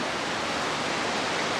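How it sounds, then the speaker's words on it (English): Ocean waves wash onto a beach as the tide turns, a steady broadband hiss of surf with no voices present. "A few more waves than there were."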